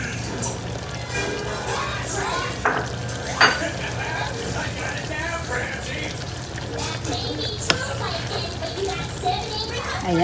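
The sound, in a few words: stirring beef and squash dish with onion leaves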